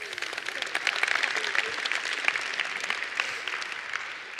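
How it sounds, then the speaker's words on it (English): Audience applauding at a conference talk, a steady wash of many hands clapping that holds for several seconds without words. "Let's give her a big round of applause."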